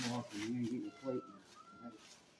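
A cat meows several times on arriving home, with drawn-out nearby calls mixed with a person's excited voice.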